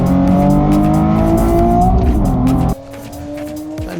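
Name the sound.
drag race cars launching down the strip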